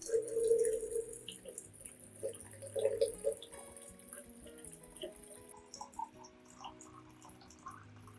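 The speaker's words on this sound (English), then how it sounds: "Then add 1 liter of clean water to dilute the solution." A liter of clean water is poured into an orchid vitamin B solution to dilute it: a steady, faucet-like trickle that is strongest early, then thins toward the end, heard alone without talking.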